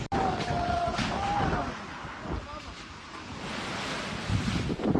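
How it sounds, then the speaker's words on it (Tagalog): Waves surge and crash at a resort in Dipaculao, Aurora, as strong wind roars during Super Typhoon Pepito; loud, continuous wind and surf, with a brief voice underneath. "Umabot sa resort na ito sa Dipakulaw Aurora ang mga alon habang nananalasa ang Super Typhoon Pepito."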